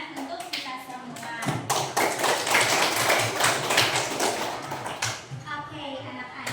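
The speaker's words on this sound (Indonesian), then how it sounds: "Oke, tepuk tangan untuk kita semua." A classroom of students applauds together at a teacher's prompt, with dense, sustained clapping that swells, carries on for several seconds and then thins out into scattered claps.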